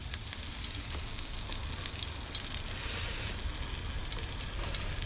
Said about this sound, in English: Let's go ahead and add some oil.